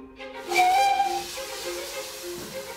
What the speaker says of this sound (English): It is powered by steam engines, which fill the tunnels with smoke.